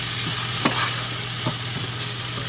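Garlic, onions and tomato fry in a pan for Filipino-style cooking, giving a steady hiss of sizzling oil with a few soft scrapes and clicks of stirring.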